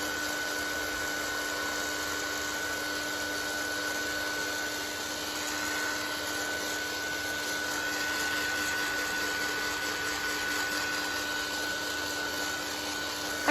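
A hair dryer blows steadily to dry a painted paper background for a book of backgrounds, a constant even whir with a faint tonal hum running for the whole stretch, close and alone.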